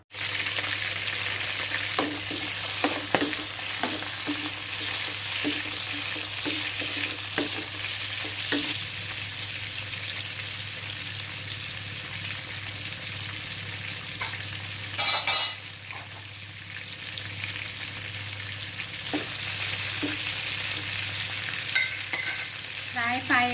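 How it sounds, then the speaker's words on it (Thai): Pad thai with fresh shrimp being stir-fried, a steady close sizzle under repeated scraping and tapping of a spatula in the pan, with a brief louder burst midway; no speech. "เดี๋ยวเราไปผัดไทยกันเลยคราวนี้"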